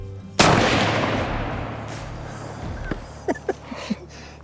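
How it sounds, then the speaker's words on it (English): A single loud rifle shot rings out while hunting outdoors, a sharp crack followed by a long fading rumble, with a few faint knocks and small sounds afterward. "That's your farthest shot by far."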